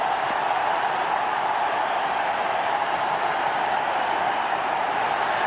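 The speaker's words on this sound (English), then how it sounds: "The crowd are on their feet." A large cricket crowd roars continuously in celebration after India win a Test match and the series against Australia in Chennai in 2001, a dense, steady wall of cheering that goes on without a break.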